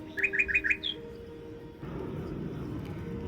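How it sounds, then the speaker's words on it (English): A small bird foraging on the ground gives a quick run of four bright chirps close by, then a single higher note, followed by quiet outdoor ambience with a soft steady background hiss. "A bird arrives, small, fragile, yet full of purpose."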